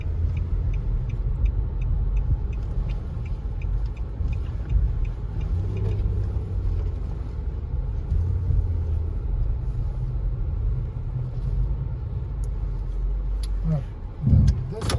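Low, steady road rumble and tire noise from inside a 2022 Nissan Murano driving on the road, with faint ticking and a brief louder thump near the end, and some quiet talking.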